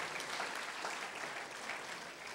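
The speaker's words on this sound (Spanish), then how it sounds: "Dale un aplauso a Jesucristo" Church congregation applauds in a steady, dense wash of clapping hands, sustained and fairly even for a couple of seconds, somewhat distant and without speech over it.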